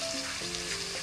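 A pan of food frying, a brief continuous sizzle heard up close with no voices.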